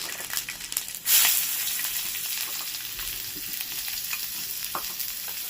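Garlic and onion fry in hot oil left from frying pumpkin, a loud, continuous close sizzle with stirring scrapes throughout, beginning with a sharp burst as they hit the oil.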